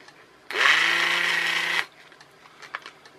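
A small electric motor on a converted friction-powered toy car whirs loudly and steadily against the flywheel for over a second, then cuts off, leaving faint clicks.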